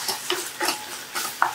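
Tomato sautéed in a pan with chili powder and Kashmiri chili powder, stirred in about five rhythmic scraping strokes over a soft sizzle, with a light metallic clink near the end.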